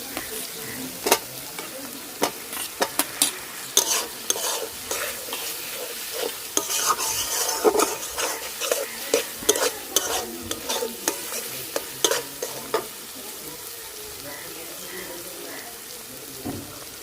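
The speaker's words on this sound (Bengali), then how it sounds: "মশলাটা ভালোভাবে কষাই নিচ্ছি" Spice paste (masala) frying in oil in a pan while being stirred, with a steady sizzle beneath repeated scraping strokes of a spoon against the pan, close and continuous, with a person speaking softly now and then.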